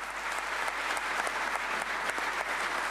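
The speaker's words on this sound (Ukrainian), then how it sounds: "На цю новину зал відреагував аплодисментами." A hall audience applauds during a Ukrainian presidential visit to the Ternopil region, a dense, even clapping that carries steadily throughout at moderate distance.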